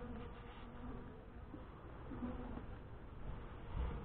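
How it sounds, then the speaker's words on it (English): Honeybees buzz in an opened hive, a steady, faint, dense hum that continues throughout with slight swells and no talk. "there are way more bees in here than was in here previously."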